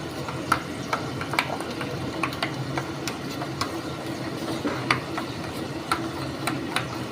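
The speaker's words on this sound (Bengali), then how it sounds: "এটাকে ভালো করে সুন্দর করে মেশাবো।" Dahi bhindi paste of okra and masala being stirred and whisked in a bowl, with a steady run of light clicks and scrapes close by and no talking.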